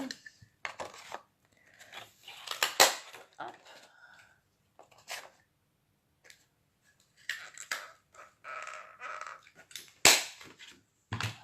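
Sharp, crisp punching clicks from a border punch pressing through paper at a craft table, coming in several quick bursts with short pauses between them, close and fairly loud.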